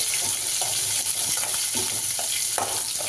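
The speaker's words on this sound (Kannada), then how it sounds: "ಹಾಗೆ ಗೋಡಂಬಿ ಇಷ್ಟು ಹಾಕಿ ಫ್ರೈ ಮಾಡ್ತಾ ಇದ್ದೀನಿ" Onions and cashews fry in a pan for a gravy, a constant loud sizzle with scattered clicks and scrapes of a spoon stirring through it.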